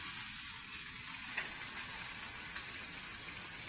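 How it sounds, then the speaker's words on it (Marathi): Small fish fry in hot oil beside a tilapia in a pan, giving a loud, steady close-up sizzle with a brief scrape partway through and no voices. "हे पण एकच नंबर फ्राय होतात छोटे मासे पण आपले"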